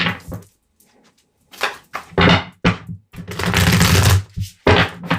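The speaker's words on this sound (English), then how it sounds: "Just reset the cards a little bit." Tarot cards are shuffled and reset in several quick riffling bursts, a long dense flutter in the middle, separated by brief quiet gaps, close and crisp.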